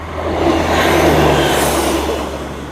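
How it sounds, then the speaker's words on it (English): Train passing along the seafront railway line at Dawlish, Devon, a steady loud rumbling roar with low hum and broad rushing noise that swells and holds throughout, heard close by. "and there's a train coming as well."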